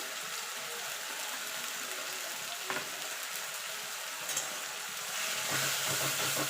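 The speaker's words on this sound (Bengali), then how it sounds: "এবার মশলাটাকে কষিয়ে নেবো যতক্ষণ মশলা থেকে কাঁচা গন্ধ না চলে যাচ্ছে আর মশলা থেকে তেল না ছেড়ে আসছে" Chicken kosha masala of cumin, coriander and chilli powders fries in a pan, a soft continuous sizzle with light crackling that swells slightly toward the end.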